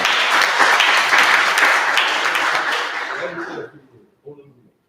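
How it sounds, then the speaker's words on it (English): A crowd at a press conference for an African American Day Parade gives a loud, full round of applause that holds steady and then fades out, with a voice starting to speak right after. "Yusef, deserve a big round of applause,"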